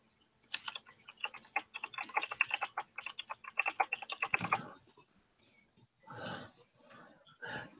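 A new computer keyboard clicks under fast typing, a dense run of crisp, close keystrokes for several seconds, followed by a pause and a couple of brief murmuring voice sounds.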